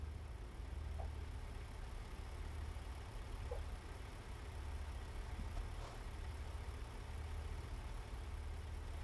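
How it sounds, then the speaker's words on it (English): A low, steady truck engine idle in American Truck Simulator rumbles continuously, with a few faint clicks and taps on top; no one speaks. "Is that our truck making that noise?"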